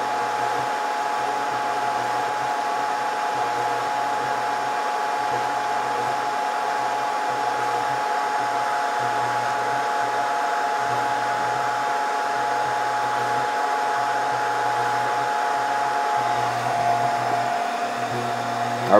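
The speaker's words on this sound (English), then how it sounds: "Our bottom jet's going to kick on a little extra heat to help get that chip melted well." Bottom hot air jet of a Scotle IR 360 dual IR and hot air rework station blowing extra heat under a chip on a board, a steady, even rushing hiss with a faint hum that runs unbroken and fairly loud, with no voices.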